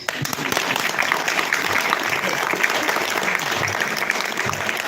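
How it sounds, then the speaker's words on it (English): A spiritual lecture audience at a Hare Krishna session claps together in sustained, loud, even applause, a dense continuous patter of many hands filling the room. "We are clapping for Lord Krishna who has spoken Bhagavad Gita."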